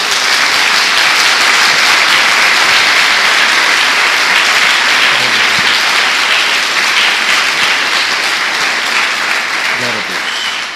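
A congregation at a church service claps loudly and continuously in a sustained, dense round of applause.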